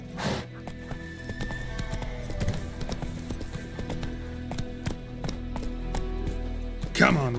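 Horse hooves clip-clop steadily in The Witcher 3 video game, a continuous close rhythm of strikes with a brief whinny near the end, under a man's occasional speech.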